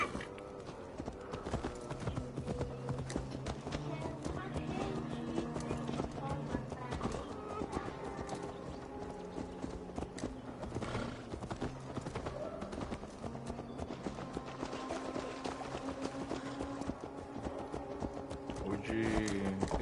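Horse hooves clip-clop at a steady gait with an occasional neigh in Assassin's Creed Valhalla, laid under game music and character dialogue throughout.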